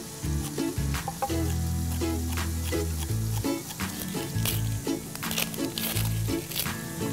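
Pot roast meat browns in a hot pan with a steady, loud sizzle and crackle throughout, partly masked by prominent rhythmic background music.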